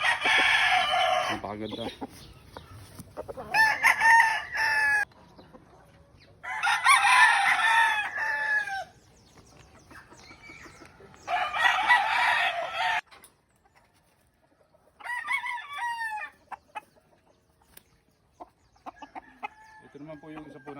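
Black broodcock gamecocks crow repeatedly in loud bursts, with clucking between calls and someone talking nearby.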